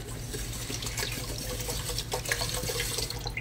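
Drinking water pours into a rice pot in a steady, close gushing stream with splashing and trickling, running continuously without pause and with no talk.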